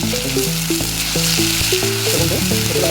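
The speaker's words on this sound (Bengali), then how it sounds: "আমি এটা প্রথম ভাজবো, এটা ভেজে নিবো।" Ginger garlic paste fries with onion in a pan for a chicken and mung dal curry, giving a loud, steady, close sizzle with background music playing underneath.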